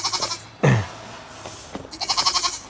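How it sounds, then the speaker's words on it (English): Goats on a backyard farm bleat close by, a wavering nasal call opening and closing the stretch, with one sharp loud bleat and a fainter cry in between. "we're gonna keep the two goats over here separate together for a couple of days, and then Daisy's gonna get introduced"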